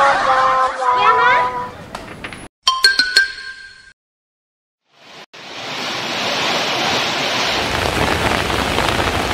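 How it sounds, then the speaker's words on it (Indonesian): Steady rain falls in a comedy parody drama, a dense broadband hiss that fills the last four seconds after a short gap. Before it come a ringtone-like tone, choppy sounds and a voice. "Aduh, habis hujan nih."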